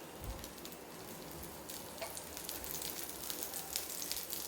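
Dosa batter sizzles steadily on a hot pan, a dense, even crackle of frying that holds at a moderate level throughout with no talking.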